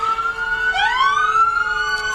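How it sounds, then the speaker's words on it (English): A police siren at a graduation parade on Main Street in Breckenridge holds a steady tone, then sweeps upward into a rising wail, loud and close, over low traffic rumble. "They've got loud sirens."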